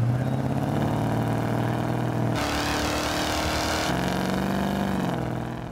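A 1994 Buick Roadmaster with a swapped engine drives along, its steady engine drone loud and close, shifting pitch twice as it revs and changes gear, no talking.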